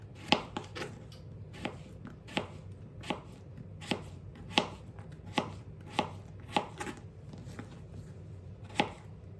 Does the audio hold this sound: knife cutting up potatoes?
yes